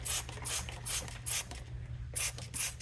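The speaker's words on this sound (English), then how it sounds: "I'm also going to spray it with some green cleaner." Green cleaner degreaser sprayed onto a 1994 Chevy K1500 engine in rapid hissing bursts, about six quick trigger pulls in a steady rhythm, close and crisp.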